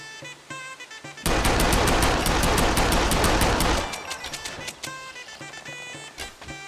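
Firearms shooting in the video game SCUM, a sudden loud rapid burst of automatic gunfire lasting a few seconds, then separate sharp single shots scattered at irregular intervals.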